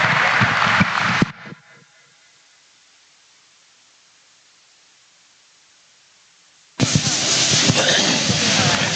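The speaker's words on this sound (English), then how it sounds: "These kids deserve a great round of applause" Audience clapping at a livestock market goat show arena, a loud burst of applause that cuts out into near silence and then resumes abruptly at full strength.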